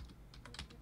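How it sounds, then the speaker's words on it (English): A quick burst of fast typing on a computer keyboard, several crisp key clicks packed into under a second, close and fairly quiet. "Fast typing FTW"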